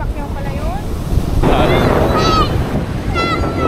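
Ocean waves crash and wash around a tour boat in rough water between Puerto Princesa and El Nido, loud and steady under wind buffeting the microphone, with voices faintly heard.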